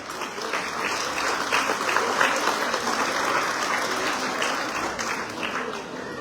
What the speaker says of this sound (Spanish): Recibimos con fuertes aplausos a la gente de San José Yucue.